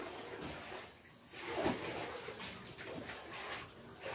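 Floodwater being drained from a construction site for column footings, flowing in a steady broadband rush at moderate level, with a brief surge partway through.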